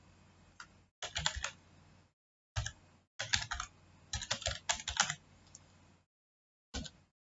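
A computer keyboard being typed on in short bursts of rapid clicking keystrokes, close and distinct, separated by silent pauses, with no speech.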